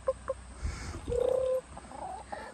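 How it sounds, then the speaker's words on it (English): Backyard chickens give soft clucks and a short, sustained rising call, close by and fairly quiet, with faint movement noise between the sounds. "Chester, don't scare the chickens."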